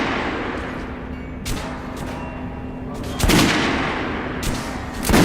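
Gunfire at shooting-range dummies in Metro: Last Light Redux, several loud shots cracking at irregular intervals over a steady low hum, with a heavier burst near the middle.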